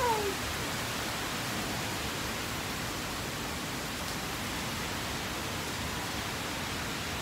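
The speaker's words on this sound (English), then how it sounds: "The rain is getting heavier and heavier." Heavy rain pours down in a dense, even hiss that holds steady for the whole stretch, loud and close with no voices or other sounds standing out.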